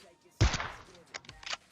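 A gunshot from a PUBG Mobile match: one sharp, loud report with a short decaying tail, followed by a few fainter clicks and thumps.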